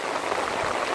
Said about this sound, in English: Yeah, heavy rain, that's it.